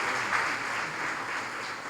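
A church congregation applauds, a steady wash of clapping from many hands that holds evenly for a couple of seconds with no voices over it.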